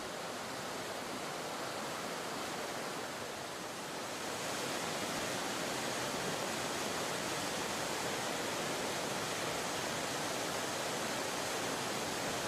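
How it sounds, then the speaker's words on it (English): Emerald Pool, a small six-metre waterfall at the base of Morne Trois Pitons in Dominica, gives a steady, dense rush of falling water. It runs continuously and evenly with no voices. "Emerald Pool is a small waterfall, 6 meters high."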